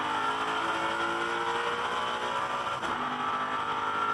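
Onboard Jason Richards' touring car during a race at Bathurst, a loud, steady engine roar is held at high revs, with a brief shift in pitch partway through and no voices.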